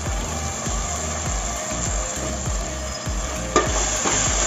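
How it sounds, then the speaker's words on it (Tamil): Drumstick (moringa) flesh with spices sautés in a pan, a steady sizzle broken by rhythmic scraping strokes of a spoon stirring every half second or so, close and moderately loud. "வதக்கி விட்டோம்."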